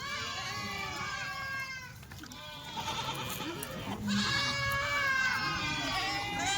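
Kathiawari sheep bleat repeatedly from close by, wavering calls overlapping one another with a short lull in the middle before the calls pick up again, amid background murmur and voices.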